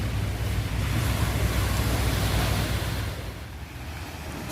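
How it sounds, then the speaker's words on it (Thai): Calm morning sea at Bang Saphan Noi beach in Prachuap, heard as a steady, soft wash of gentle surf mixed with wind rushing across the microphone, continuous and fairly close, with no voices. "น้ำนิ่งมากสำหรับเช้านี้นะคะ"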